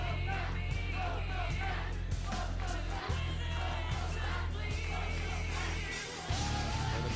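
Crowd at a live professional wrestling show cheering and yelling, a loud sustained roar of many voices with whoops and shouts rising over it, steady throughout with a brief dip near the end.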